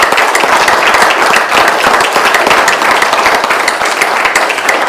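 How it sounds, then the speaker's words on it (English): Sustained applause from an audience thanking a panel at a historical society baseball event, dense steady clapping filling the room throughout. "So let's give them a round of applause."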